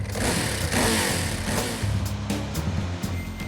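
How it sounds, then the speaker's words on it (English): A loud 998cc V-twin motorcycle engine roars and revs hard with a deep, throaty rumble, held steady with slight surges, close by and with no talking. "that 998cc V-twin roars into a brand new lease of life"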